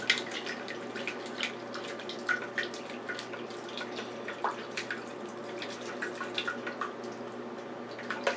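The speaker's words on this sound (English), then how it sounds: "So I'm going to add the water in my mixer here, or in the container that had the beans in it." Water running from a tap into a bean container for beef and bean soup, a soft continuous trickle with small splashes and drips, close and fairly quiet.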